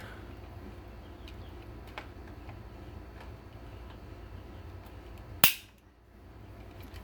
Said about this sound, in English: Let's pull the trigger now and see what it's coming in at